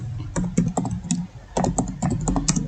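Typing on a computer keyboard while entering MySQL commands in a Windows command prompt, with bursts of quick key clicks and brief pauses, close and clear, no talk.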